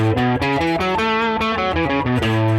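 A distorted electric guitar plays a quick run of single notes moving up and down a major pentatonic scale, loud and sustained, with no talking.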